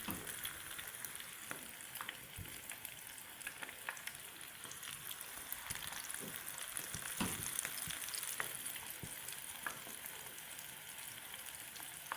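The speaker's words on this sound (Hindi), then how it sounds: "इसको अंडे में हम इसको इस तरह कोट करेंगे, इसे फ्राई करेंगे।" Egg-coated chicken veg sticks frying in hot oil, a soft continuous sizzle and crackle with occasional pops and light stirring, quiet and steady with no speech.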